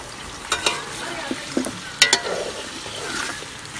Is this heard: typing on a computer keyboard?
no